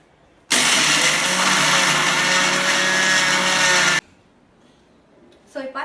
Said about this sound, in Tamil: ஸோ நம்ம இப்போ இதை அரைக்க ஆரம்பிக்கலாம்.